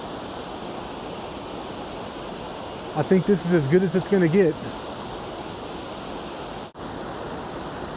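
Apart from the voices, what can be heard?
Lost Falls waterfall, Rocky Mountain National Park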